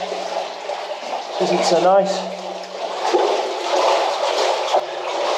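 Water sloshing and splashing as someone wades through a flooded passage of an underground tin mine, a steady churning that swells and fades, with a person speaking over it.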